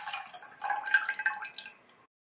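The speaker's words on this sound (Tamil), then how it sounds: "இது கூட 1/2 கப்புக்கு கொஞ்சம் கம்மியா தண்ணி சேர்த்துட்டு" Just under half a cup of water poured into a pot of drumstick soup, a short close trickle and splash with no voices, fading out at the end.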